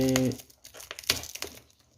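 Adhesive tape peeled off the packaging of a Syngonium milk confetti plant during unboxing. After a brief voice, a few close, crinkly tearing and crackling bursts follow.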